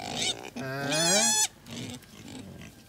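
On a pig farm with newly farrowed gilts and sows, a piglet lets out one loud, rising squeal close by, followed by softer grunts and oinks from the pen, with a voice speaking faintly underneath.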